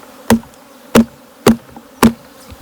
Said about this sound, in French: tu secoues toutes les abeilles à l'intérieur